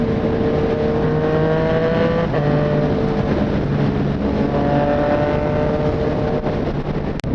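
Yamaha MT-09 motorcycle with an aftermarket exhaust, ridden at night, holding a loud, constant engine drone with rising and falling pitch as gears and revs change, close to the rider and without speech.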